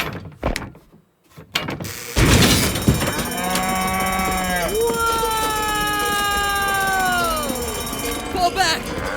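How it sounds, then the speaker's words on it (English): Cattle moo in an audio drama scene, long drawn-out bellows following a loud burst, with a voice or two and tense background noise mixed underneath. "It's Old Man Cooper's cattle!"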